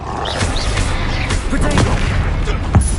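Blasting Confringo spells burst in Hogwarts Legacy on PS5, a run of booming explosions mixed with dense combat effects and creature roars in a busy fight.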